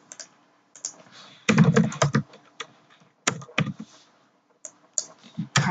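Keys clatter on a computer keyboard in short irregular bursts of typing, with sharp single clicks like the enter key struck between pauses, close and clear with no talking.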